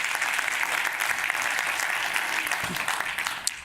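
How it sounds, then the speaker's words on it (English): Steady applause from a conference audience for its speakers, a dense, even wash of clapping throughout the short stretch. "Round of applause for our speakers."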